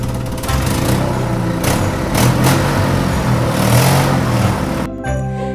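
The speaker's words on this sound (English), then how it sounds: "very soon they could hear his truck motoring towards them" Grandpa Dog's truck motors steadily closer in a cartoon, a loud continuous engine hum with a slight rise in revs, heard alone before cutting off abruptly near the end.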